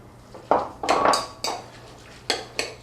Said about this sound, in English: I just drained the pasta, so let's go ahead and throw it in the bowl.